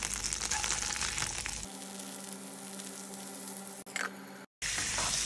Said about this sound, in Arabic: راح ننزل الزبدة، راح ننزل الستيك كذي.